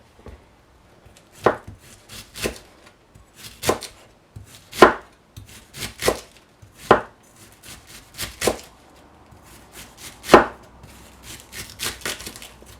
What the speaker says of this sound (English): Just going to thinly slice this cabbage.